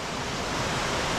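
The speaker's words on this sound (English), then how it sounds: "This is the main waterfall here at Bailey's Ravine, and it's quite the waterfall." Constant broadband rush of the main waterfall at Bailey's Ravine in Franklin, Connecticut, a steady close roar of falling water with no other sounds.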